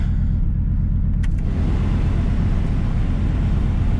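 An old $500 pickup truck idles steadily after its spring start-up on last year's fuel, a loud, continuous low engine rumble that holds close and constant throughout, with no talk.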